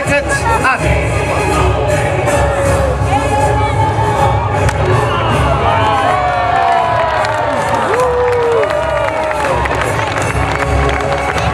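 A crowd at a jousting tournament at a castle festival cheers and shouts for a mounted knight, with loud mixed yelling and whistles over constant outdoor murmur.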